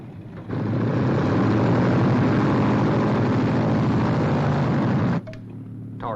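A propeller airplane roars loudly and steadily down a runway on its takeoff run, a dense sustained engine drone that cuts off abruptly near the end, leaving quieter background noise.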